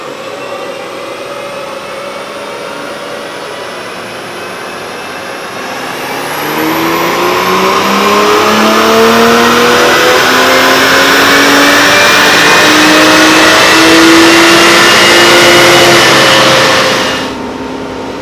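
A 2020 Toyota Supra with a stage 1 tune revs hard on a dyno, the engine note climbing steadily in a long, loud, sustained pull before cutting off near the end.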